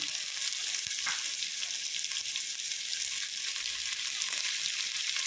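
Vegetables for paneer fried rice sauté in a pan with a steady, dense sizzle that holds evenly throughout, close and loud, with a few faint stirring taps and no speech.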